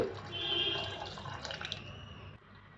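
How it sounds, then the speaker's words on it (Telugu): Water pours steadily into a pot for a couple of seconds, a soft splashing trickle that fades out near the end. "ఇప్పుడు మనం ఈ కర్రీ ములిగినంత వాటర్ పోసుకోవాలి"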